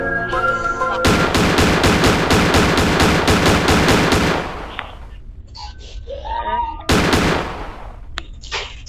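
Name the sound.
shotgun firing in the video game Granny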